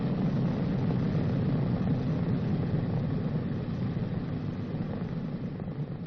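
The piston engines of a B-29 bomber run steadily during the pre-takeoff engine check on the runway, a loud, continuous, rumbling drone with a rough low-frequency throb and no talking.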